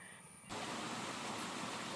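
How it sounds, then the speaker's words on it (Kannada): Rainwater running through a village farm plot makes a steady, broadband rushing wash that starts abruptly and continues evenly to the end, close and unbroken, with no voices. "ಮಳೆಯಿಂದ ಗಣಕ್ಲು ನೀರು ಹೋಗ್ತಾ ಇದೆ ಇಲ್ಲಿ ನೋಡಿ"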